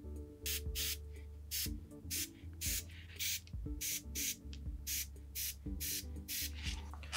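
A Gaahleri Mobius airbrush sprays thinned Tamiya flat blue paint in short, repeated hissing bursts with brief pauses between them, close up and steady, over a low background hum.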